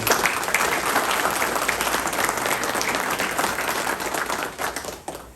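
An indoor audience at a spring season sales event gives loud, sustained applause, dense clapping that holds steady and then gradually thins toward the end.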